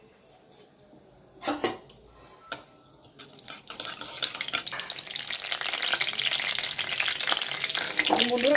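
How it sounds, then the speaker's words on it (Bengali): Black cumin seeds crackle in hot mustard oil, starting with a few scattered utensil knocks and then swelling into a dense, continuous close sizzle. "আর দিয়ে দিচ্ছি ফোড়ন হিসেবে কালো জিরেটা খুব ভালোভাবে ভাজা হয়ে যাওয়ার পর"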